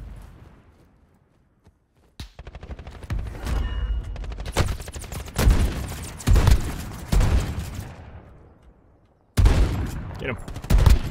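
Automatic gunfire in Call of Duty Modern Warfare's Plunder mode rattles out in several loud, close bursts separated by short pauses, with sustained volleys and a final burst after a brief silence.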